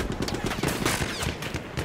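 Machine gun fire in a Battlefield 1 Domination match on Cape Helles: a rapid, steady rattle of shots amid loud battle noise, with faint voices mixed in.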